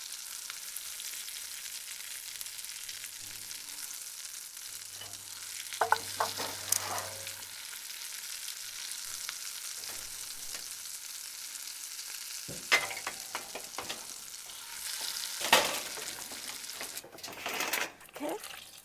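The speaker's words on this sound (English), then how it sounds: "I'm going to drop it in there. And you can see how" Apple empanaditas fry in hot oil with a soft, steady sizzle and occasional louder bursts and pops as the pastries are dropped in and settle.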